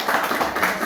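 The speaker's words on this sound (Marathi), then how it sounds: "टाळ्या वाजवा जरा." Audience in a Marathi community meeting clapping together, a steady mass of applause with repeated hand claps throughout, fairly loud and without talk.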